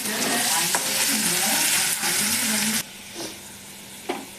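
Potatoes frying in a pan give a steady, loud sizzle that fills the first few seconds, then drops to a softer hiss with a couple of clinks from stirring.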